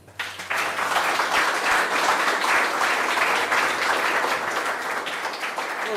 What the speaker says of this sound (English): All right, round of applause for Ben.